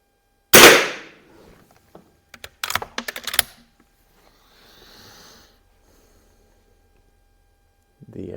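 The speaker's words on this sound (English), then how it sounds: "So I'm going to shoot at the upper right target with off the rest here." A 1941 Marlin 39A .22 lever-action rifle fired from a rest at a paper target, giving one sharp close shot followed by a quick cluster of clicks and snaps from working the action, with quiet pauses between.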